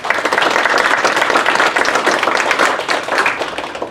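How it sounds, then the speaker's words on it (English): Dense, steady audience applause fills a vendor presentation hall, loud and continuous for the whole stretch with no break. "So give yourselves a round of applause on that."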